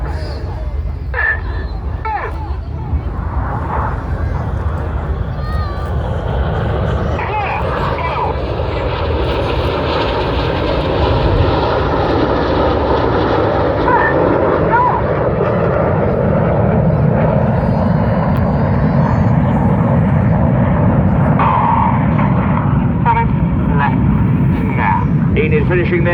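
Red Arrows jets flying synchronized rollbacks at an airshow in Ayr, a continuous loud jet roar that swells and shifts as the formation passes, with a commentator and crowd voices over it.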